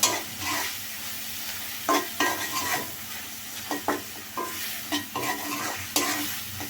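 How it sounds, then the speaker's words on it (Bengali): Dried fish and small fish frying in spiced masala for a radish curry, with a steady close sizzle broken by repeated scrapes and stirs of a spatula in the pan. "শুটকি মাছটা দিয়ে আর একটু কিছুক্ষণ কষিয়ে নিব"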